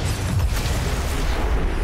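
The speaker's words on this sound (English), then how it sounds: "That is an awesome explosion" A loud, broad rumbling blast from an explosion in the XCOM 2 video game fills the whole short moment, close and heavy with no voices.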